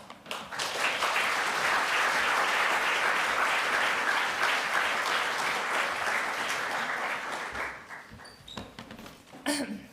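Sustained applause from an evening event audience welcoming speaker Keyu Jin, loud and steady for several seconds before tapering off into scattered claps.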